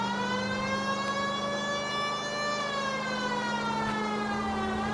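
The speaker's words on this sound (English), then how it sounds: "Don't you hear the sirens?" Emergency vehicle sirens in a PS4 video game wailing continuously and loudly, pitch slowly rising and falling over a steady low engine hum.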